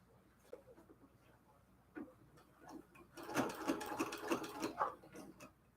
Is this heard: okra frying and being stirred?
no